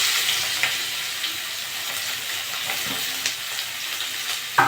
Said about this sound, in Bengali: পেঁয়াজটা একটু ভেজে দেবো।